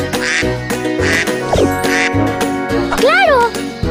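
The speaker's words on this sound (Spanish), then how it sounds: "¡Claro! ¡Es el pato!" A duck quacks in a run of nasal, bright calls over bouncy children's music, in a playful animal-guessing game.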